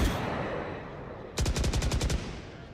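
A rapid burst of about eight sharp automatic shots in Valorant during an esports playoff match rings out over the steady crowd and arena noise, close and punchy.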